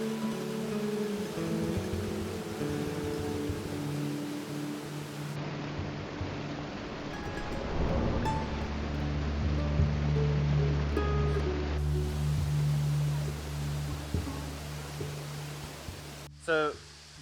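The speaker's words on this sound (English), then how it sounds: "this is a really cool waterfall" A waterfall on a stream along the Blue Ridge Parkway pours as a steady broadband rush that grows fuller partway through, with a person speaking over it and some handling noise near the end.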